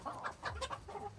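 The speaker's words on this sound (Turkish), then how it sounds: "Şu tavuk çok güzel olmuş ya." Chickens in a backyard flock cluck in short, repeated bursts, fairly close and moderately loud, with no talking over them.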